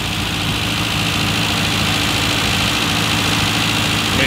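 Classic Mini engine with a carburettor, tuned for E10 fuel, idling after the revs come down, a loud, steady, rumbling drone up close with no talk over it.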